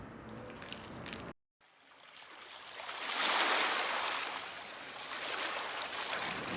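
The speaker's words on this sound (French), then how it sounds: "vous entendez le bruit. Le bruit de quoi? Le bruit des vagues" Ocean waves at the seashore in Shimoda, Japan, a soft rushing surf that swells after a brief dropout and then settles into a continuous moderate wash, with no voices.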